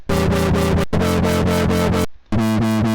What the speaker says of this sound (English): you have the wave shaper putting on an initial distortion, then the filter happens, making it all wobble, and then the wobble itself gets distorted afterwards